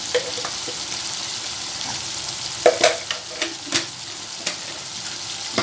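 Mutton coated with Kashmiri red chilli powder and homemade garam masala sizzles steadily in a pan, with a few scraping spoon strokes partway through as the spiced masala is stirred; close, with no talking.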